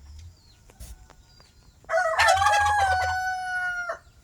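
A rooster gives one loud, close cock-a-doodle-doo lasting about two seconds, after a quiet stretch with faint background sounds.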